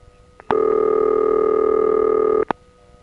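A steady two-tone telephone signal holds for about two seconds, bracketed by short clicks and quick blips at each end, loud and close on a recorded phone line at Kennedy Airport, with no talking.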